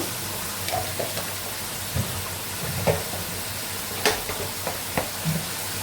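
Ground spices, including turmeric, coriander and chilli, are stirred and sautéed in a pan for a curry, giving a soft, steady sizzle with scattered scrapes and taps of the spoon.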